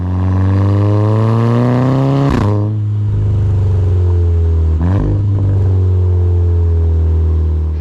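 A Mark 6 Golf GTI EA888 Gen 2 2.0-litre TSI engine with an upgraded APR turbo, swapped into a Skoda Laura, revs loudly up and down several times with a strong, steady droning tone and sharp throttle blips.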